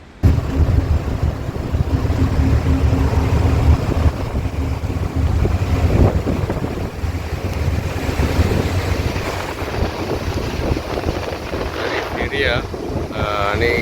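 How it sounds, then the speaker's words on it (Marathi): A ferry boat carrying a car across the water to Divar Island chugs along with a low, steady engine drone, while strong wind buffets the microphone and water washes faintly beside the hull. "मस्तपैकी गाडी आता फेरीबोटीत चढलेली आहे."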